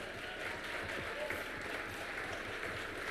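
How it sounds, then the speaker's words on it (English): Audience applause after an on-stage call for a round of clapping during a live interview event, a steady dense wash of hands at moderate loudness with no clear talk over it. "Let's give them a round of applause."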